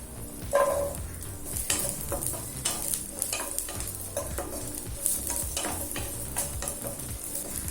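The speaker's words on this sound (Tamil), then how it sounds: "சின்ன வெங்காயத்துக்கு நல்லா பச்சை வாசனை போக நல்லா வதக்கிக்கலாம்." Shallots and garlic sauté in a kadai with a moderate, steady sizzle. A spatula stirs and taps against the metal at irregular intervals.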